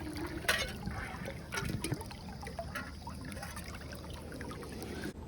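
A 32-ounce single-wall stainless steel canteen is dunked into a flowing stream, with a brief splash and gurgle early on, then steady trickling and bubbling water close by.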